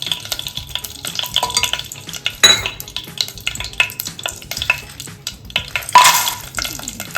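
Food sizzles steadily in ghee in a hot pan, with occasional stirring scrapes and light clinks of a utensil against metal.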